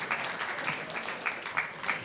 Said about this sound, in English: let's give these champions another big round of applause